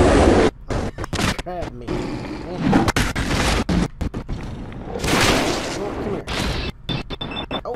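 Hellfire weapon firing in Fallout 4 with an Overwatch mod, loud booming blasts and bursts repeating through the stretch, mixed with explosion-like rumble, while a person talks over them.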